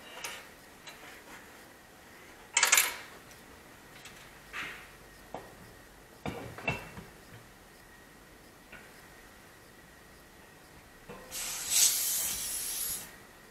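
A gas bottle on a KELT 7.60 sailboat hisses in a few short bursts during a test, with a longer, louder hiss near the end amid quiet background clicks.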